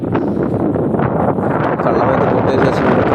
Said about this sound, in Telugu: గాలి దుమ్ము అయితే మొదలైపోయింది.